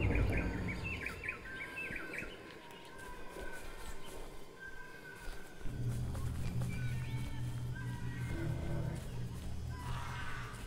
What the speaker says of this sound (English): Those birds, whatever kind of birds there are in the background, so annoying.